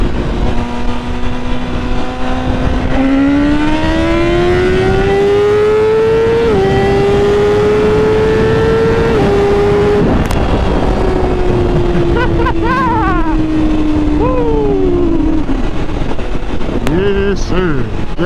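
A BMW S1000RR sport bike accelerates hard through second gear, its loud engine note climbing steadily in pitch with wind roar, then a shift and more revving, recorded up close from the rider's position.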